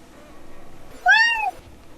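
A cat in a Star Trek scene gives one clear, rising-then-falling meow, close and distinct over a quiet, faintly hissing background, with no speech during the call.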